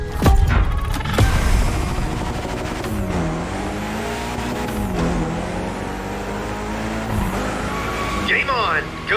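A Mitsubishi Lancer Evolution X drifting in The Crew Motorfest, its engine note rising and falling steadily while tires squeal through long slides, heard under an announcer-style voice.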